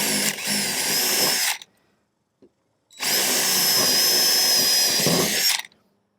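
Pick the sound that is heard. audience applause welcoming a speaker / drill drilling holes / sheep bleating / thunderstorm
drill drilling holes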